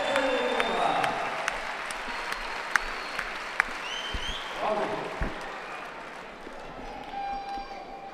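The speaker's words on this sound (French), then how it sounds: "Un tonnerre d'applaudissements dans un Coubertin en feu et encore debout" Crowd applause and cheering in a packed arena after a veterans' fencing final, moderately distant and rolling, with sharp claps standing out and a commentator talking over it.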